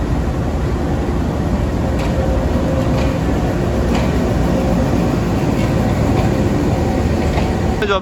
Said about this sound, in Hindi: GU20 अमेरिकन लोकोमोटिव के साथ 4561 के साथ आ रही है इस्लामाबाद एक्सप्रेस।